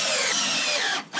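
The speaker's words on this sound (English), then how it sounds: "So here I'm just installing some L brackets in the corners of the wood on the underside" Power drill driving screws to fix L brackets into the corners of a wooden rock-clearing sieve frame, a steady close whine running continuously and cutting out briefly near the end.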